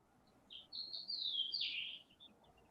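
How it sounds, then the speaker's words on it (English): A small bird sings a bright, high chirping phrase outdoors, a short run of quick notes rising and sliding together, moderately near against quiet background hiss. "I'm listening to the bird."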